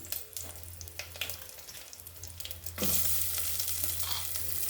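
Curry leaves, mustard seeds and cumin hit hot oil, giving quiet crackles and pops that swell into a sudden, louder hissing sizzle that carries on to the end.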